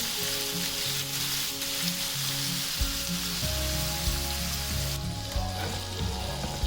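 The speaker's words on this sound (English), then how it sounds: "Our prawns are getting cooked" Prawns frying in ghee with roast masala, a steady broadband sizzle holding throughout, loud and close, with no voices.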